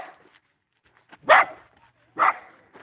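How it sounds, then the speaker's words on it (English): Small dog barking outdoors in a neighborhood, two sharp barks about a second apart with faint yips between, fairly close. "How come it's always the little dogs that got the loudest bark?"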